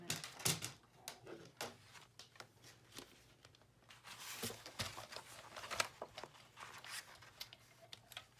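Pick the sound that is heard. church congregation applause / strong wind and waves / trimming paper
trimming paper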